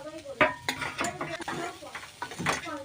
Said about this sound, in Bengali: এরপর আমি এটা ঢাকাটা খুলে দেবো।